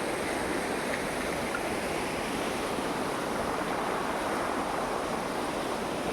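A river flowing through forested countryside near the Aralam wildlife sanctuary, a loud, dense, unbroken rush of water that stays steady throughout with no voices.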